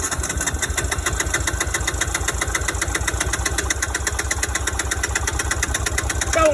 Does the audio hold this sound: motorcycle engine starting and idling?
yes